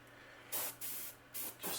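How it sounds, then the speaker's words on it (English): An airbrush sprays paint onto a koi-patterned crankbait fishing lure in three short, close hissing bursts over a quiet background hum. "We're going to spray, not through a stencil, just some random spots with the brush."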